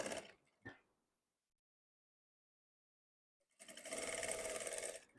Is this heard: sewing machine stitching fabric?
yes